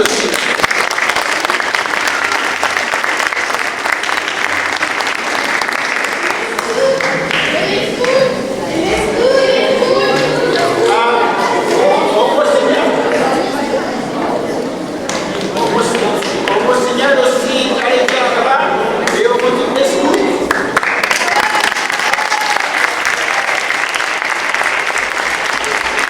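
Applause from a congregation at a youth closing Mass in a church, a long sustained clapping that swells and fades with voices and children heard in the crowd.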